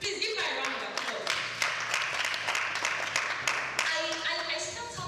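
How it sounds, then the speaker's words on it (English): A crowd applauds a speaker at a talk on management, with dense, continuous clapping that holds steady for several seconds and has voices mixed in. "Let's please give her a round of applause."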